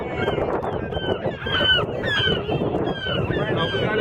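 A seagull caught and tangled gives repeated harsh, honking calls at close range, over and between people talking nearby.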